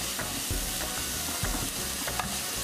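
Tofu fries in a little ghee on a flat griddle, giving a steady, dense crackle with small ticking pops throughout, fairly close and with no voices.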